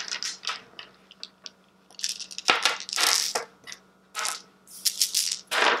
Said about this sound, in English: I'm going to choose to empty the reserve as well and put everything back in the bag